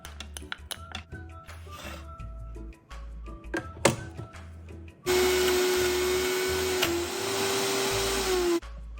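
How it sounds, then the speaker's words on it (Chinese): An electric blender grinds soaked dried chillies with drained dried shrimp, roaring loudly and steadily for about three and a half seconds, its motor pitch wavering slightly as it runs. Before it starts come scattered knocks, clatters and bumps as the ingredients are loaded. "泡软后的辣椒干，沥干水分后的虾米，全部倒入搅拌器内一起搅碎"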